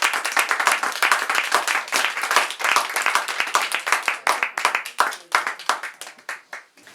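Steady clapping from an audience at an art exhibition in Paris, many hands at once, fairly loud and continuous, thinning slightly toward the end.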